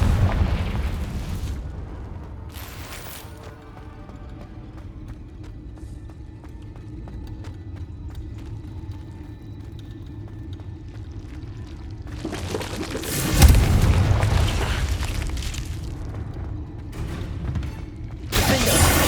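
Confringo spell blasts in the Hogwarts Legacy video game, a long stretch of dense rumbling battle noise with a couple of sharper explosive bursts near the end, loud and continuous.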